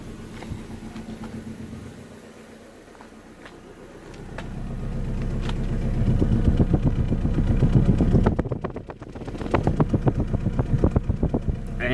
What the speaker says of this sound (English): Now let me show you the exhaust.